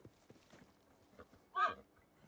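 A horse in a Game of Thrones episode, faint hoof clops followed by a brief loud snort or whinny, with quiet speech nearby.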